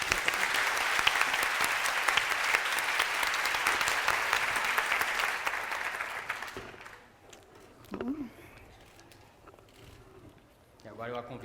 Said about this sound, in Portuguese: Queria pedir palmas para a Maria Esther.